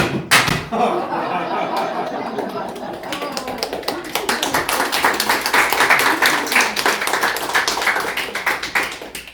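Lively audience applause with distinct, sharp individual claps building into a brisk, uneven patter, loud and close, after a few sharp slaps at the start.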